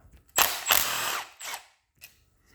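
Power tool backing out 10mm and Torx 30 bolts while a Ford 4.0L SOHC V6's timing chain is serviced, in two loud whirring bursts followed by a shorter one and a faint final spin.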